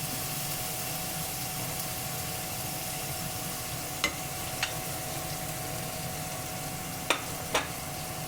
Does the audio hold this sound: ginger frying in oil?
yes